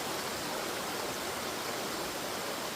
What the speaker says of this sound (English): Back here is the waterfall.